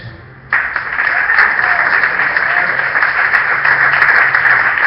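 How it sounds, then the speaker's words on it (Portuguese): A Pentecostal church congregation at a Thursday service bursts into sustained, loud applause after a brief pause; the dense clapping continues steadily to the end. "Agora você aplaude Jesus."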